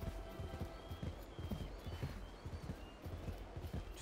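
Rhythmic clip-clop of a galloping horse's hooves in a Donkey Kong video game, steady repeated beats close and fairly loud under a faint background hum.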